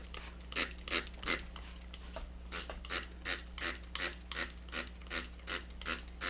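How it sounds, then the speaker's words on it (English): A noisy hand pump sprayer mists water over watercolor paper in repeated short hissing bursts, about a dozen evenly paced pumps, close and fairly loud over a low steady hum. "Oh man, my sprayer is noisy, isn't it?"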